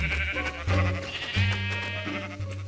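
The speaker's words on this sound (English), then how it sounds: "Is that a sheep? There's three of them." Sheep in the video game Minecraft bleat in a few short, loud, close calls one after another, with no talk over them.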